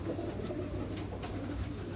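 Household pigeons cooing softly, low faint coos over a quiet background with no talk.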